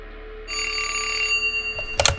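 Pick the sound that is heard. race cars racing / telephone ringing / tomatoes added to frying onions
telephone ringing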